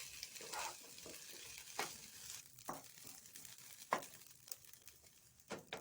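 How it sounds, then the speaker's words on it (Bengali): Rice sizzles and crackles as it is stirred and fried in a pan for Bengali sweet pulao (misti or jorda pulao), a steady soft frying hiss broken by scraping stirs, fairly faint and with no voices. "ভালো করে নেড়ে নিয়ে চালগুলো আমি একটু ভেজে নেব।"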